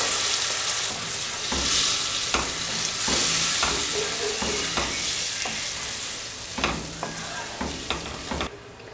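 A spoon stirs salted mango through a spiced pickle mixture in a pan, scraping and tapping in repeated strokes over a steady background sizzle, close and moderately loud.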